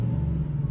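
Car engine with a failed Ford 5R55S/W automatic transmission being given gas, a close, loud, steady low rumbling drone held for under a second.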